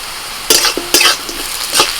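Onion frying in a pan as three whole garlic cloves go in, for a Bihari egg curry: a steady sizzle with three quick stirring scrapes of a spatula, close and fairly loud.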